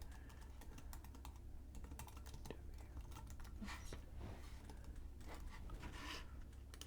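Steady typing on a computer keyboard while using a text tool in a graphics editor, a quick run of soft, close key clicks over a low background hum.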